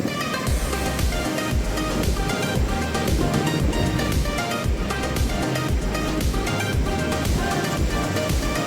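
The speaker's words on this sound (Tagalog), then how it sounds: "ang lakas ng alon" Heavy surf crashes continuously onto the shore, a dense roaring wash of waves with wind noise, no voices.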